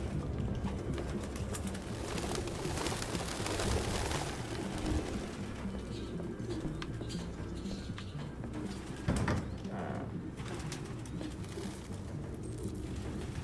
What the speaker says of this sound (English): This is an unreasonable amount of birds.